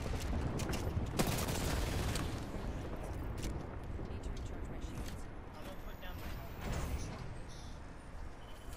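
Dense gunfire in a video game firefight, with overlapping rapid bursts and shots that stay loud and continuous throughout, over a busy mix of other game sounds.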